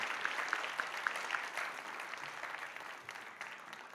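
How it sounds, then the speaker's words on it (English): Steady audience applause at a researchers' awards ceremony, a continuous even patter of many hands at moderate distance, with a few faint tonal chirps early on. "You can applaud him once again."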